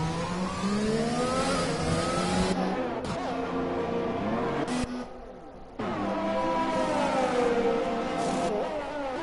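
Race cars in a Formula-style racing video game at Belgium's Spa circuit pull into the pits, engines droning steadily with shifting revs and brief dips, loud and continuous throughout.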